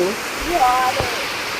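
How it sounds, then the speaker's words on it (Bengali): Heavy rain and wind from a strong storm make a steady rushing wash, with a voice briefly heard over it. "ঝড় বৃষ্টি এই দেখো কি জোরে ঝড় উঠেছে ঝড় উঠেছে ঝড়"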